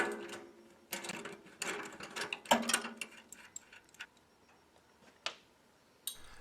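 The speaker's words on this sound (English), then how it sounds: "using two 13mm wrenches, remove the 8mm bolt that secures the hood strap to the rear bracket" Two 13mm wrenches work an 8mm bolt loose from the hood strap bracket on a BCS 30-inch precision depth roller, giving scattered sharp metallic clicks and clinks at an uneven pace, moderately close and with no voices.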